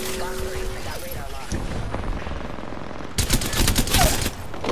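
Gunfire in a video game: a steady rattle of distant shots builds into loud, dense bursts of rapid fire in the last couple of seconds, over a busy game background.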